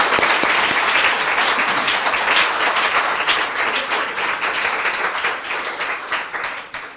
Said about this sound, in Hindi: आइए, प्रभु यीशु के लिए जोरदार ताली बजाएं।